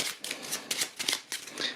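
Cards from the Heat: Pedal to the Metal board game are shuffled by hand in a series of crisp riffling bursts, close and fairly quiet, with short pauses between them.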